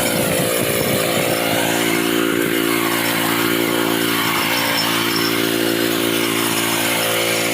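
A bike-style power tiller weeder with a 10 HP Japanese-model engine runs continuously nearby, a loud, steady buzzing drone with slight rises in pitch, alone with no talking.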